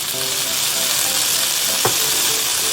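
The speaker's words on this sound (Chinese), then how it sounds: "打开盖子，再次翻炒。" Pork spare ribs stir-frying in a flat pan, a steady loud sizzle throughout with a single brief scrape of the spatula partway through.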